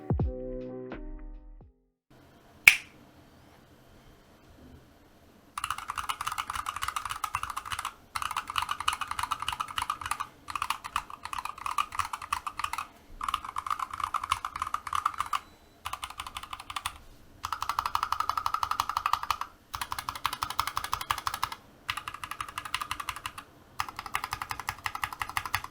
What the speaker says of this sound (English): typing on the macropad